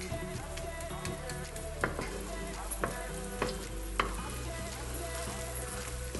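Carrots and chopped vegetables sauté in a pan for Turkish lentil soup, a steady close sizzle with occasional sharp clacks of a utensil stirring against the pan.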